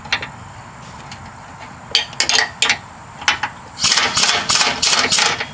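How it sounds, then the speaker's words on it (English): Impact gun on a Nissan Rogue front lower control arm bolt, a few short sharp bursts of rattling hammering that build into a longer sustained run near the end, close and loud over a quiet shop background. "I'm going to try it with my impact gun"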